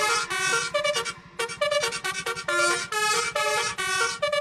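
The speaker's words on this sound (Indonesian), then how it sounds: "Malah klakson Basuri anjay." A Basuri telolet horn on a bus plays a loud, close, melodic sequence of bright tones in quick repeating bursts with short gaps between them.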